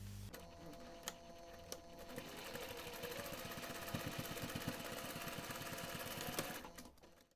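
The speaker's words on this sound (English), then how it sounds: "take this to the machine and top stitch along that finished seam" A sewing machine runs steadily, top stitching along a finished seam of a cardholder wallet, its fast, even needle rhythm holding for several seconds after a brief start with no voices.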